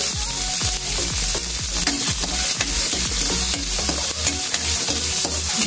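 Onions sautéing in a hot pan for Bicolano pancit bato guisado, a loud continuous sizzle broken by rapid, repeated scraping and clanking of a utensil stirring against the pan, close up with no talking.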